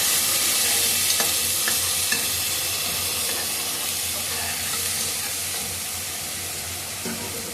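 Onion paste fries in a pan with a steady, close sizzle and hiss that holds throughout, easing slightly toward the end, with no voices.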